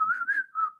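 A man whistles a short, wavering three-note tune, loud and close with no other sound around it, the pitch sliding slightly off as if the whistle falters.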